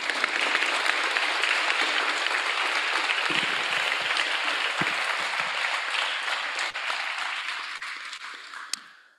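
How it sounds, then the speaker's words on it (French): Audience applause for award winner Alessia Muccio, a dense sustained burst of clapping that holds steady for several seconds and then gradually fades near the end. "Je lui demande de lui faire un tonnerre d'applaudissements à nouveau pour Alessia"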